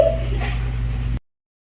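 A young dog, a puppy at a vet's office, gives a short high whimper and whine up close, lasting about a second before stopping abruptly.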